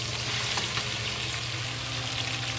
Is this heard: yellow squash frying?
yes